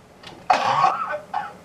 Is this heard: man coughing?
yes